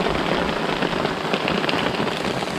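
Heavy rain pounds on a camping tent with a tarp during a wilderness survival trip, a loud, dense and continuous drumming patter close overhead with no talking.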